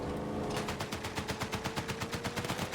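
Rapid automatic gunfire in the video game Battlefield 6 rattles in a steady, evenly spaced burst of shots, fairly quiet and continuous, with a faint electronic hum underneath.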